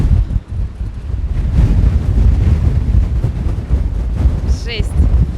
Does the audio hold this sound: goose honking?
no